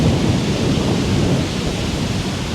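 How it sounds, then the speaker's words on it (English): Loud, steady roar of strong wind buffeting outdoors by a pond, a continuous broadband rush with no voices. "The wind is insane."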